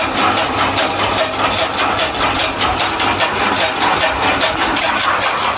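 A solar-powered green fodder cutting machine on a cattle farm runs steadily, a continuous mechanical whir with a fast repeating chop rhythm, loud and close throughout, with no talk.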